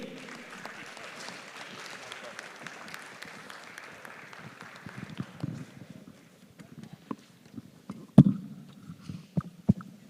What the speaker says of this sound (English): Please, can we applaud them once again?